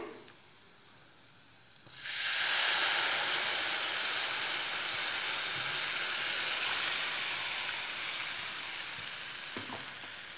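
Gram flour batter hits a hot pan for zunka and bursts into a loud, steady sizzle after a quiet start. The frying hiss holds for several seconds and eases slightly toward the end.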